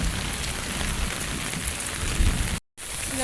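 Steady rain falls in a close, even hiss that cuts out for a moment, then resumes.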